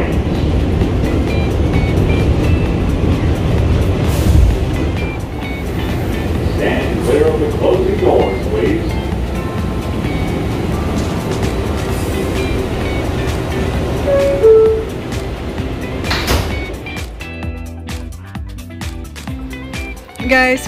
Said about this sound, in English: And mao ni ang subway experience dinhi sa New York.